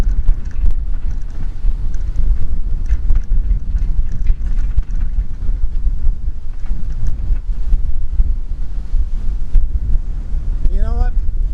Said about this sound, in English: The wind seems to be picking up.